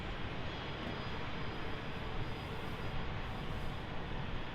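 An Alliance Airlines Embraer E190AR on final approach to runway 01 right at Brisbane Airport gives a low, steady, distant engine drone that stays even throughout with no talking.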